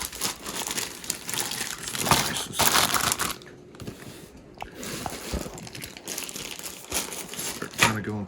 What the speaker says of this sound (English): I put them inside Ziploc bags to help preserve them.